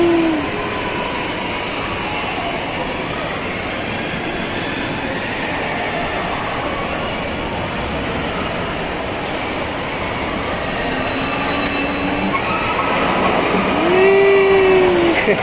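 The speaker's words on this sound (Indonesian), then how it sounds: "hari ni Uma akan naik kereta api pula." A small amusement park train ride at Genting Highlands rumbles and clatters steadily along its track, with occasional wheel squeals rising near the end and no talking.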